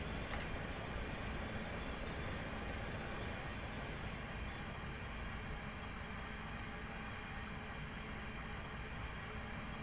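A Class 700 Thameslink electric train runs in the Train Simulator Classic game, giving a steady, continuous rolling rumble and hum with faint wheel squeal, quiet and unbroken throughout.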